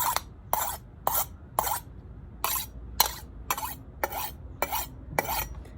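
Kitchen knife being sharpened on the rim of a ceramic cup or bowl, about eleven crisp scraping strokes in an even rhythm, close and alone.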